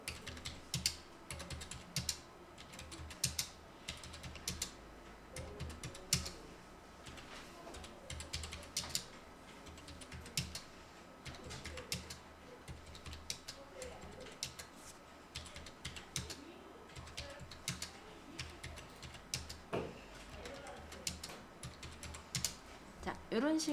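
Numbers are typed into an Excel spreadsheet on a computer keyboard in quick bursts of close, crisp key clicks with short pauses between them, quiet throughout with no talking.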